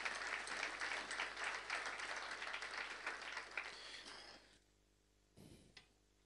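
Church congregation applauding loudly and steadily for about four seconds, then the clapping dies away into near silence with a brief burst of noise near the end.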